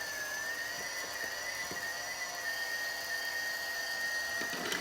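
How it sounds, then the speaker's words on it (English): Kmart toy vacuum cleaner running with a steady, thin high-pitched motor whine and faint rattling of small colourful balls spinning inside, close and continuous. "It makes a nice little vacuum noise."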